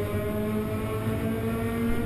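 Onboard a race car lapping the Paraná circuit, a steady loud engine drone with wind rush fills the moment, sustained without clear gear-change breaks.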